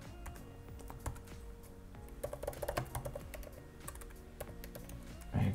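Computer keyboard keys clicking as a username and password are entered, a steady run of fairly close taps with a few louder strokes near the end.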